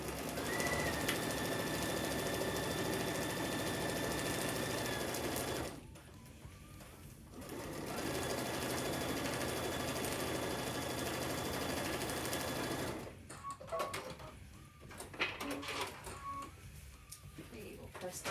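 A sewing machine runs steadily while stitching a quilt panel for an MCQ Flower Through Lattice pattern, in two long continuous bursts with a pause between, then quieter handling noise.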